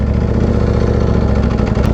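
Warm V4R motorbike engine idling steadily close by, a loud, even low-pitched throb with a constant pulsing rhythm and no revving.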